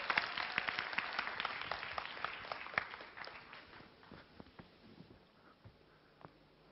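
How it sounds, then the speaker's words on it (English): An audience at a conference session applauds a speaker, with dense clapping that starts strong and close and then thins out into a few scattered claps as it fades. "a warm, warm round of applause for Morinosuke"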